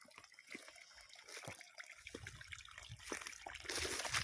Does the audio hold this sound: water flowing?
yes